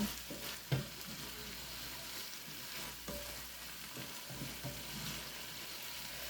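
Beef and vegetables stir-frying in a pan, a soft steady sizzle with occasional scraping and tossing knocks, quiet and close, no talking.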